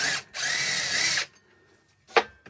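Power drill backing bolts out of the secondary clutch on a Yamaha 660 Rhino side-by-side, one loud sustained whir of about a second with a brief restart and then a short final burst, close up.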